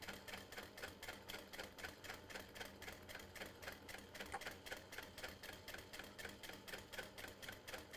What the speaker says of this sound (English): take this back to the machine and do the same kind of top stitch a quarter inch away from the middle seam